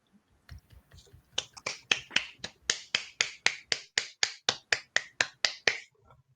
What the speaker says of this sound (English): So nice to hear the clapping